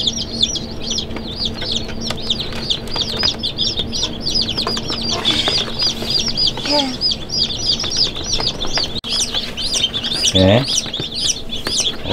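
Baby chicks cheep constantly in a dense, high, rapid chorus, close and loud, with a few clucking notes mixed in and a brief louder call near the end.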